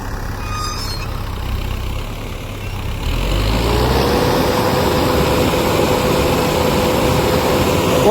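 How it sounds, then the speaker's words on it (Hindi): Engine of a 90 HP tractor with radial tyres, pulling a sensor-equipped maize sowing machine, running steadily with a low rumble that grows louder partway through and stays loud. "90 एचपी कैटेगरी का ट्रैक्टर है"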